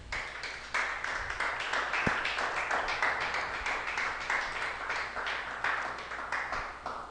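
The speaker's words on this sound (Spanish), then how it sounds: "Denle un fuerte aplauso al Señor," A church congregation at an anniversary service clapping in a fairly regular rhythmic beat, many hands together, moderately loud and steady for several seconds with no speech over it.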